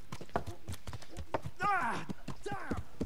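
Horse hooves clip-clop in Kingdom Come: Deliverance around a monastery courtyard, a steady run of distinct thuds under continuous talking, with a horse-like whinny in the middle.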